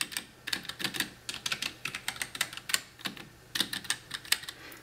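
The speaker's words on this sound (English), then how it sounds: "If I was to just lightly tap the buttons, let me go and show you what that sounds like." Keys lightly tapped on a Womier K66 mechanical keyboard with Gateron switches, a quick irregular run of crisp, close clicks in short bursts with brief pauses, no talking.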